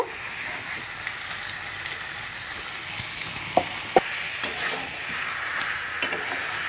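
Chicken curry with fried potatoes frying and sizzling in a pan, a steady hiss under scraping stirs and a few sharp spatula knocks near the middle and end.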